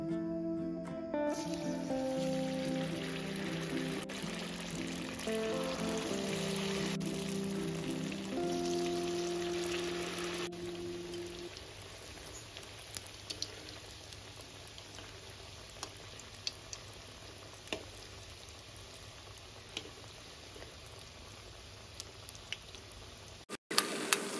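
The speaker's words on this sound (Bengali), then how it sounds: "তেলটাকে গরম করে তারপরে মিডিয়াম ফ্লেম করে এবার এক এক করে স্প্রিং রোলগুলো দিয়ে দেবো" Maggi spring rolls frying one by one in medium-hot oil in a wok give a steady, close crackling sizzle for the whole stretch, with soft background music over the first half.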